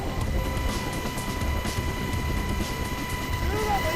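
Inside a military helicopter on a high-altitude infiltration training flight, a constant dense cabin roar with a steady tonal hum fills the whole stretch, loud and close, with no pauses.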